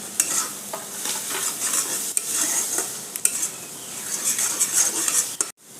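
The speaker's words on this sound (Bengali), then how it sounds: "আমি আদা কাঁচা লঙ্কাও ভেজে নিয়েছি।" Ginger and whole green chillies frying in oil for masoor dal, a continuous bright sizzle broken by repeated scraping and tapping of a spatula against the pan, ending in a sudden cut; no one speaks.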